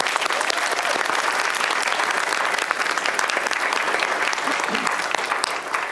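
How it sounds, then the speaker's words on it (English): Steady, dense applause from a large audience, continuous and even throughout with no pauses. "can we get a round of applause for everyone on the listening panel?"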